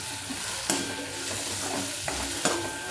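Onion, turmeric and dry coconut sautéing in a pan, a soft steady sizzle with a few sharp scrapes of a spoon stirring, quiet and close with no talk.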